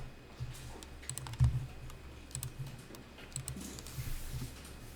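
Computer keyboard typing close up during accounting data entry, with quick irregular key clicks in short bursts and small pauses, no voices.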